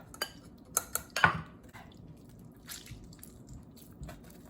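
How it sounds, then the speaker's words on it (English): Tamarind juice strained into a pot for Indonesian pempek brings a few sharp clinks of metal utensils against the pot and sieve, then soft liquid dribbles and drips under near silence. "Now strain it again into the same pot"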